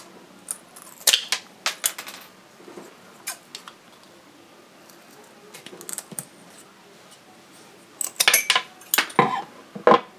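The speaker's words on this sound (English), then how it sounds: "I'm just gonna cut a little bit of this off." Scissors snipping off a piece of a handmade DIY Christmas ornament tree, with scattered close clicks and cuts and a denser burst of crisp snips near the end, no talk.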